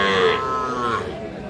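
A young bull calf for sale gives a single sustained, loud moo up close that fades slightly toward the end, with no talking over it.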